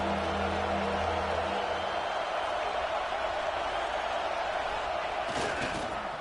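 A stadium crowd at a college football game at LSU roars behind the defense on a big third down, a dense, sustained wall of cheering and noise with a few sharp claps near the end.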